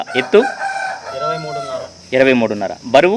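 A one-year-old red-brown rooster weighing 3.5 to 4 kg, for sale in Salem, Tamil Nadu, gives one long, loud crow nearby, with someone talking just before and after it.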